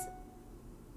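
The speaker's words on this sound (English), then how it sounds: "just received a message, excuse that noise." A short, bright electronic phone message notification chime rings at the very start, then fades into quiet room tone.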